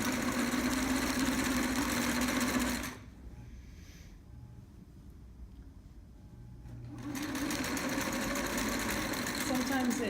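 A sewing machine runs steady long basting stitches joining wool sweater interfacing to the outer fashion fabric of a trapper's hat, stopping for a few seconds in the middle before starting again, with a voice talking faintly over it.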